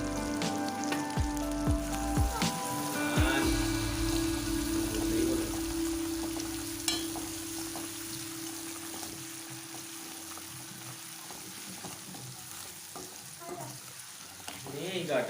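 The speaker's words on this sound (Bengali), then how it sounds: "এখানে যে পেঁয়াজ কুচি আছে এগুলোকে এর মধ্যে দিয়ে লাল লাল করে ভেজে নেব" Chopped onions fry steadily in a pan with salt and turmeric, a continuous close sizzle with stirring scrapes and a few clatters early on, steady and fairly loud throughout, with no talking.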